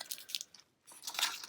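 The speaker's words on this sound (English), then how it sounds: "So I'm gonna just peel off the transfer tape." Transfer tape peeling off cut vinyl lettering on an upcycled old sign, giving short crackly tearing bursts close up, a brief quiet gap, then a longer stretch of peeling.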